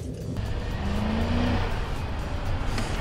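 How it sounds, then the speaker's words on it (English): A car accelerates hard from a stop on a used-car test drive, its engine rising in a steady broadband roar that holds loud and close for about three seconds with no talking. "shift to the drive and just hit the gas."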